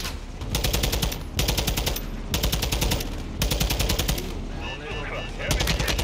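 Loud, sustained automatic gunfire bursts from the video game Modern Warfare 2 rattle in long volleys separated by brief gaps, with in-game battle noise and faint radio-style voices beneath.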